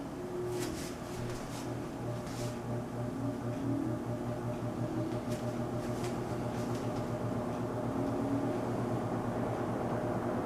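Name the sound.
Penncrest box fan model 9702 running on low, exhaust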